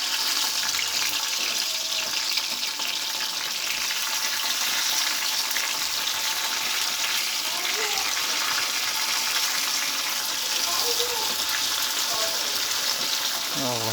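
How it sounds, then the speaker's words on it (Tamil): Tomatoes sizzle and fry in hot oil with chilli for garlic chutney, a steady crackling hiss throughout with faint kitchen clatter. "கொஞ்சம் தண்ணி பட்டுருச்சு, அதுதான் பொரியுது."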